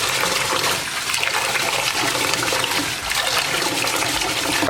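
Rice being washed in water gives a steady, loud rush of swirling, splashing water, close by and continuous throughout.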